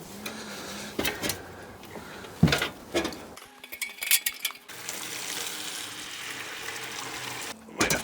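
Clean water is poured from a bucket into a blocked house gutter, with splashing and gurgling bursts that come and go, then a longer steady rush of running water near the end.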